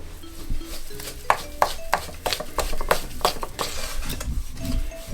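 A spoon works through thick cookie dough in a bowl, giving a close run of irregular knocks, scrapes and clinks against the bowl with no pause and no talking.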